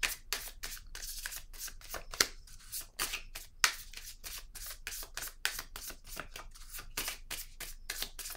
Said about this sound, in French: Je vais piger une carte noire.